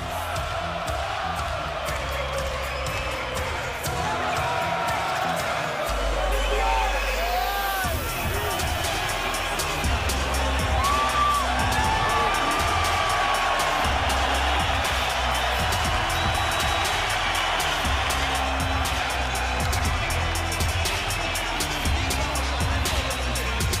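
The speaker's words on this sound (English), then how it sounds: "And the crowd responds to Triple G." A boxing arena crowd roars for Gennady 'Triple G' Golovkin at his 2017 bout with Canelo Álvarez, a loud, dense, continuous swell of cheering and babble with scattered whoops and a commentator's voice running through it.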